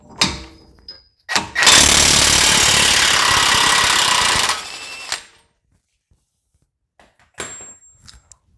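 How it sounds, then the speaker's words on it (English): An impact wrench with a 36mm socket removes the wheel bearing nut on a Ford Mustang, giving a short blip and then a loud, continuous hammering rattle for about three seconds. Metallic clinks follow, then quiet. "So we have our 36mm on our impact. We're gonna get it set and we're gonna take it off."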